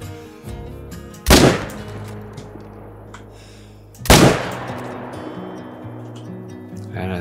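Two loud rifle shots fired at lions on the Vurhonga Savannah in a hunting video game ring out about three seconds apart, each a sharp crack followed by a rolling echo that fades slowly.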